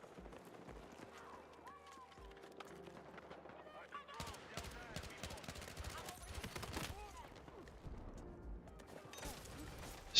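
Rapid SMG gunfire bursts crackle through a video game firefight, dense and continuous across most of the stretch, growing busier in the second half with scattered impacts and game effects.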